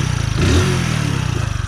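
Close by, a Hero HF Deluxe motorcycle engine putters steadily and gives one short rev that rises and falls before settling back to an even idle, with no talking.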